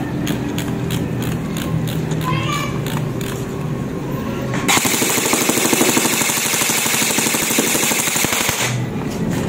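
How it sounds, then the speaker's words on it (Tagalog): A modified HK416 airsoft rifle fires full auto in one sustained rapid burst of about four seconds, loud and close, preceded by quieter handling and background sound. "Try natin i-full auto, no?"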